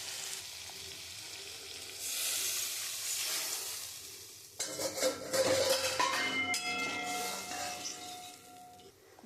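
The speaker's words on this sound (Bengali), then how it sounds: "ঝোল তো ফুটে গেছে" Fish curry broth with chilli powder bubbles and sizzles in a pan, soft at first and then louder, with crackling spits and light clinks in the second half.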